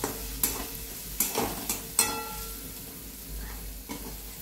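Spice masala with turmeric fries softly in a pan, a low sizzle broken by several sharp stirring scrapes and taps of a spoon against the pan, close and without voices.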